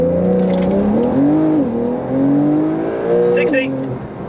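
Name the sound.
Porsche 992 Carrera 2S accelerating in 0 to 60 test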